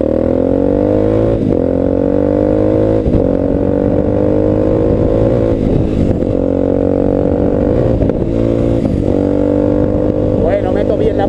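Voge 300 Rally motorcycle riding along a road, a loud steady engine drone with rising revs and periodic gear-shift dips, recorded close from the rider's position with constant wind rush.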